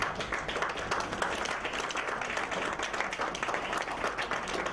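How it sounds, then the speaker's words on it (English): An audience at a book-project launch event claps their hands together in dense, continuous applause that stays even and fairly loud throughout, with no voices standing out. "let's clap our hands."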